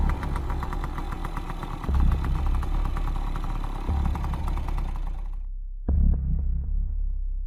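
A scooter engine runs steadily in an animated horror story, a throbbing mid-pitched idle that stays fairly loud throughout, briefly cutting out near the end before resuming.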